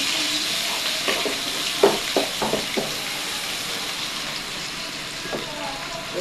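Chopped onions frying in a pan, a soft continuous sizzle with scattered scraping stirs and small crackles, and a voice talking faintly under it.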